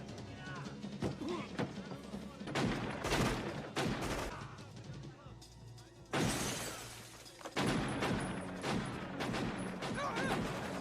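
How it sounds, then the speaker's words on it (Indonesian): Gunfire in a film shootout scene, with bursts of shots and crashing, shattering impacts layered over a dense action soundtrack, loud and continuous with heavier volleys near the middle and end. "Akhirnya Chad pun mengacau dan terjadilah aksi tembak-menembak."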